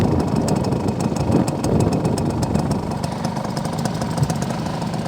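A 1973 Suzuki A100 two-stroke motorcycle engine idles steadily up close, a continuous buzzing putter with fast even pulses and no talk over it.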